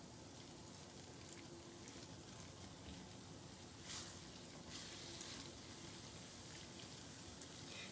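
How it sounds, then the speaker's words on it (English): Biryani with garbanzo beans is stirred in a pot during a live cooking demo, giving a faint, continuous sizzling hiss with soft scraping and shifting sounds and no talking. "give it a stir"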